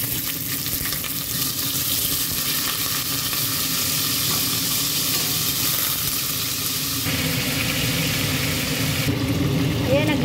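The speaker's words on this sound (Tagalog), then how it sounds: "ipapry lang natin itong ating chicken" Chicken pieces frying in oil in a cooking pot give a steady, loud sizzle that fills the whole clip, with stirring and rustling on top and no voices.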